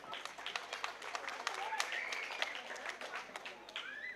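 An audience claps in sustained applause at a Bulgarian cooking gathering in Ovcha Mogila, a dense patter of hands close by, with voices and a cheer rising through it.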